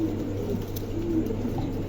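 Andalusian pigeons at a market give low, soft cooing that runs steadily through a short stretch over a constant background hum, with no talk.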